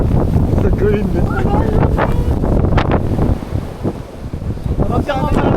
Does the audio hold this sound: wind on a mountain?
yes